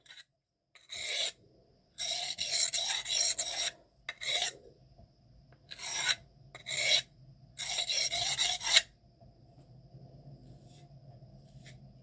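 A knife blade of M398, Maxamet or MagnaCut steel is drawn across a sharpening stone in short rasping strokes, about eight bursts in quick groups with brief gaps, close and fairly loud, then fading to a faint hiss.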